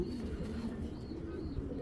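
Low, steady cooing from a pair of Rabbani Totaline Girbaz flying pigeons held in the hand, a soft continuous throaty rumble close by with no talk.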